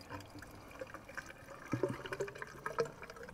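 Water drains from a motorhome drain outlet in a soft, continuous trickle with gurgling drips, faint and close, growing slightly burbly toward the end.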